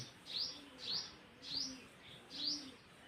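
Pigeons calling nearby, four soft cooing phrases spaced roughly half a second apart, each with a light chirpy edge, over quiet background.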